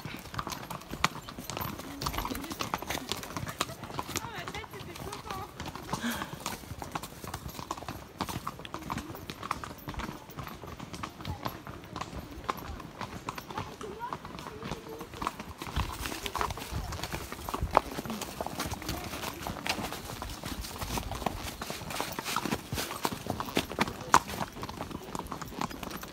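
Horses galloping along a trail ride, their hooves clip-clopping in a fast, continuous drumming rhythm that stays close and fairly loud throughout, with occasional voices in the background.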